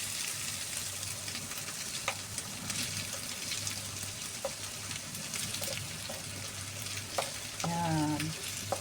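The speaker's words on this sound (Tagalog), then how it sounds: "Pwede na ilagay yung ating patatas. Igisa rin natin." Diced potatoes and ground pork sauté in a small pan, with a constant close sizzle and frying crackle broken by occasional scrapes of stirring.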